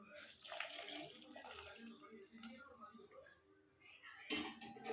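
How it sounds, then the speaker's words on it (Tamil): Hot water poured from a vessel onto dried soya chunks in a home kitchen, a steady splashing, gurgling stream lasting several seconds at close range, with a brief louder splash near the end. "இப்போ சுடுதண்ணி எடுத்து மீன் மேக்கரில் சேர்த்துக்கலாம்."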